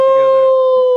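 A human voice imitates a wolf howling at the moon: one loud, sustained, tonal howl lasting about a second.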